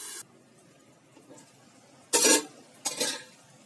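A metal lid clanks down onto a cooking pot holding rohu fish head in water, two short clattering knocks close by in a quiet kitchen.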